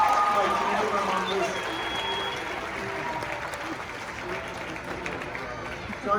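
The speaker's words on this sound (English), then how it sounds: "give her a round of applause." A circus audience claps and cheers through a loud burst of applause that starts strong and slowly fades, with a dense crowd wash throughout.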